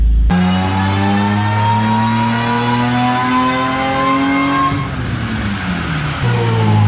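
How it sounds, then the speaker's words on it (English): A supercharged car engine revs steadily on a dyno, its rising harmonic tones climbing across several seconds alongside a high supercharger whine, loud and close, with a brief dip before the pitch picks up again. "Got that cool Supercharger whine, boys."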